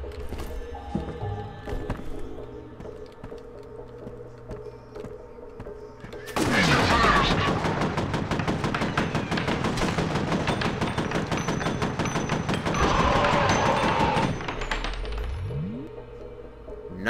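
Bursts of rapid automatic gunfire from the shooter game F.E.A.R., a loud dense volley lasting several seconds after a quieter stretch of ambient game sound, with scattered metallic clinks and impacts.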